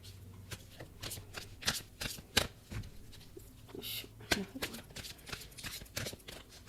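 A tarot deck is shuffled close by in a quiet room, with rapid papery riffles and soft card flicks coming in uneven bursts throughout.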